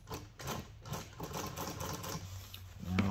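A sewing machine stitching a custom seat cover for an EZGO or Club Car golf cart, running in short rapid bursts of stitches separated by brief pauses, close and clear, with a thump near the end.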